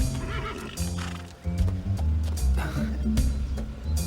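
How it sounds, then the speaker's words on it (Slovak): A big white horse neighs loudly and at length, a shrill whinny over hoof clatter and background music. "že nás ten veľký biely kôň prenasleduje?"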